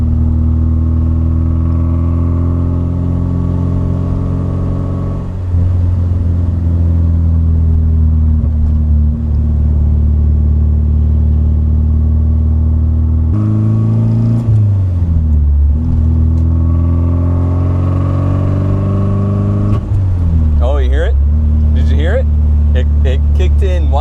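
A car engine revving hard during a launch control test, with a loud held drone that rises in pitch, drops and climbs again through several surges, with speech heard alongside it at points.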